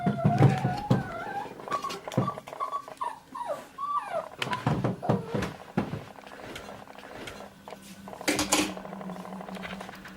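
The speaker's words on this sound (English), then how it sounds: "my dog wasn't very well, so I actually recorded that just for 20 seconds to show you what the situation was with it" An unwell dog whimpers and whines in a string of high, wavering cries that rise and fall, close by, with a few sharp yips and soft rustling or footsteps mixed in.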